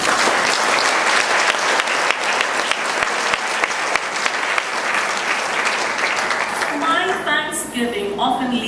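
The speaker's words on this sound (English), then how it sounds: "Let's give them a round of applause." A crowd applauds loudly and steadily, dense clapping filling the room, with a voice starting to speak as the applause fades at the end.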